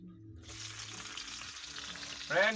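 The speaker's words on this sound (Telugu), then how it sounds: "చూసారు కదా ఎట్లా సౌండ్ వస్తుందో సల సల మరుగుతుంది" Onions sizzle steadily in hot oil close up while cooking crab curry, a continuous crackling hiss with a brief clatter near the end.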